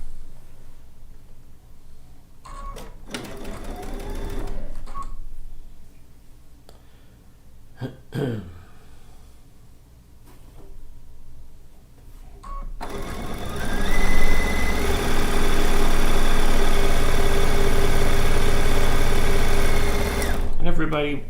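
A sewing machine runs along a fabric edge with short bursts early on, then a long, steady, loud stitching run, with a person talking between the runs.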